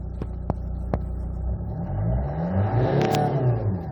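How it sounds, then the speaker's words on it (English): A Hyundai Tucson CRDi diesel engine revs up from idle with the window open, rising smoothly in pitch to a loud whine, preceded by a few sharp clicks, heard up close. "You open the window so you can hear the engine."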